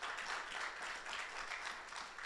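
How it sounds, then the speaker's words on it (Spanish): A church congregation applauds together in a steady, soft patter of many clapping hands, heard faintly from a distance. "Démosle un aplauso al Señor."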